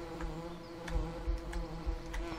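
Bees buzz steadily around a pair of beehives in the Farming Simulator 17 video game, a continuous droning hum at moderate level with slight pulsing swells, and no voices.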